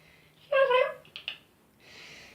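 An indoor cat in a bathroom gives one clear, close meow, followed by a couple of small chirps and a soft breathy sound, with no talk.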